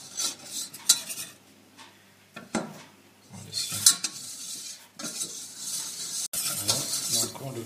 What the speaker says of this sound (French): Et là, on fait cuire notre. Donc là, je vais le cuire le roux, tout simplement.